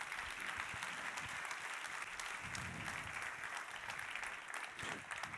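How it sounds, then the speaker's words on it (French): An audience at a sermon breaks into sustained applause, dense steady clapping filling the hall throughout. "Et on peut acclamer cette vérité-là."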